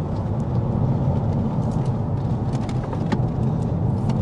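A Mercedes S320 CDI diesel driven briskly through corners on a winding B road, heard from inside as a steady low engine drone with road and tyre rumble, with no talking.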